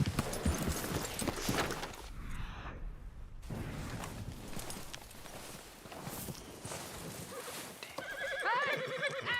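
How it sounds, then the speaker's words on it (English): A horse whinnies loudly nearby, followed by hooves clopping and shuffling, with another shrill neigh near the end; no talking. "That's my horse!"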